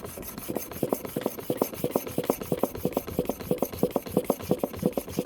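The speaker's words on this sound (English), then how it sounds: "So sharpening the cutting blade, right?" A hair clipper cutting blade is rubbed back and forth on a diamond sharpening stone, producing a quick, even rhythm of close rasping strokes, about five per second, with no talking.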